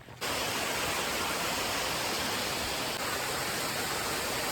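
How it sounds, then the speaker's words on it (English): Jones Falls, a waterfall on the Appalachian Trail, pours with a steady, close rushing roar that fills the whole stretch without a break, and no voices are heard. "But down here, it's Jones Waterfall."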